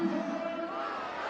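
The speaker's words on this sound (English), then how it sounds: "This is a huge crowd, probably the biggest crowd ever in T20 internationals in Pakistan." A huge stadium crowd of over 30,000 at a T20 international cricket match in Pakistan, a dense, steady roar of massed voices and cheering that holds loud and continuous throughout.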